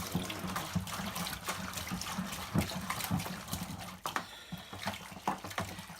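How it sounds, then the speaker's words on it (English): Wine kit powder for a Sangiovese being stirred into liquid, giving a continuous close swishing, trickling churn of moving liquid with repeated stirring strokes. "Stir, stir, stir until the whole contents of this package is done."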